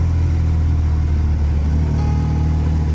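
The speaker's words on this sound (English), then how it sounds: "The engine's a Torker, 750 Norton twin, parallel twin." A 1966 Matchless G15 motorcycle with a 750 Norton parallel-twin engine runs loud and close, a steady throbbing exhaust note with no talk over it.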